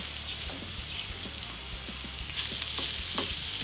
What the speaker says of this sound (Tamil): முட்டையை அப்படியே இதிலே நல்லா வறுத்துக்கலாம்.